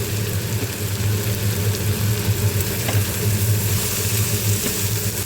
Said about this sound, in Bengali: চাল কুমড়োটা ভাজা ভাজা হয়ে গেছে।